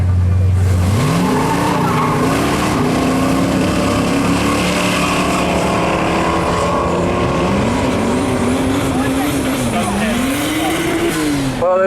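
Camaro muscle car on a no-prep drag strip at North Weald, a loud sustained engine roar rising in pitch through the gears as it races down the strip, with tire squeal and a faint voice in the background.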